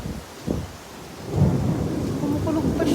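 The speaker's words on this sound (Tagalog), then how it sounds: "Kumukulog pa siya." Thunder rumbles low and heavy through a downpour in strong wind, a deep swelling roll building under the constant wash of rain on surfaces.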